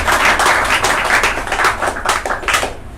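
Dense, loud applause from an audience seated at a spiritual talk, steady rapid clapping filling the whole stretch and tapering slightly at the end.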